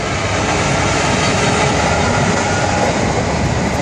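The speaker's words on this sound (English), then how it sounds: "there's a Class 66 taking a car train down to Southampton Eastern Docks" A Class 66 locomotive hauls a car train along the rails toward Southampton Eastern Docks, a loud, close, unbroken roar and rumble of wheels and wagons that holds steady throughout.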